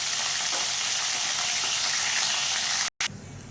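Fish frying in hot oil until reddish, a steady bright sizzling hiss close up, broken by one brief gap of silence near the end.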